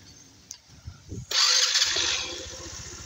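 A motorcycle engine cranks and catches close by: a few short starter rattles, then a sudden loud roar that settles into a steady, rapidly pulsing idle.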